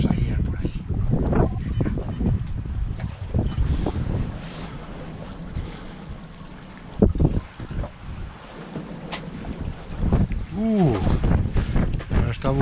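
Wind gusts across a boat at sea near racing buoys, a steady roaring rush mixed with water and hull noise, while someone talks over it throughout.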